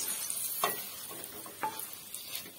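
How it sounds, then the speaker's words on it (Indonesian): Ingredients sizzle and fry in oil in a pan while being stirred, with a few soft clinks and scrapes over steady crackling, close and fairly quiet. "Dan kita akan goreng bahan-bahan kita tadi ya."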